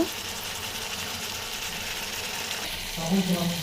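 Green chillies and ginger, garlic and chilli pastes fry in a hot pan with a steady, close sizzle that thickens slightly near the end, alone without talk.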